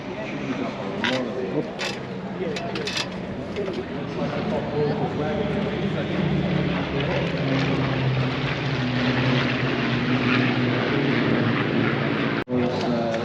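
A propeller airplane engine drones steadily and loudly throughout, a constant close roar with a sharp click near the end and no clear talk.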